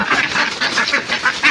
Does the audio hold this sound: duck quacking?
yes